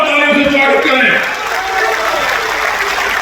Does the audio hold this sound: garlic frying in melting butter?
no